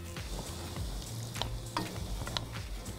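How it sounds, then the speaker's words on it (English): Pork sizzles in a hot pot of hot and sour soup while being stirred, a steady low frying hiss broken by occasional scraping clinks of the utensil. "Just give it a stir so that the pork doesn't clump"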